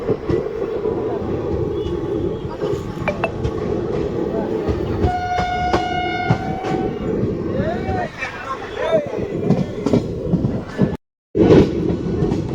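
A passing passenger train rumbles and clatters close by in Gujarat, India, with a brief horn blast partway through and a faint hubbub of voices in the background.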